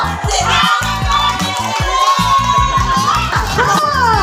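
Guests and children at a 65th birthday party shout and cheer together in a loud, continuous burst, with overlapping excited voices filling the room.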